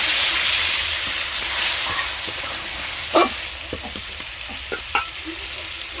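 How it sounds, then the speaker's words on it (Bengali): Spice masala fries and gets stirred in a pan, first a loud bright sizzle after water goes in, then calmer frying punctuated by scattered spatula scrapes and clinks, close and without talk. "আরও কিছুক্ষণ ভালো করে মশলাটা আমি কষিয়ে নেব"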